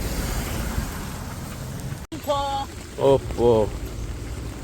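Floodwaters of the Indrayani river at Indori, swollen and pouring over both bridges, make a steady broadband rush that fills the first half, then continues under voices talking.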